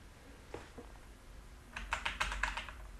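Computer keyboard keys pressed for the Tab and R shortcut in the game Happy Wheels, a couple of soft taps followed by a quick burst of clicky keystrokes, close and fairly quiet, with no talking.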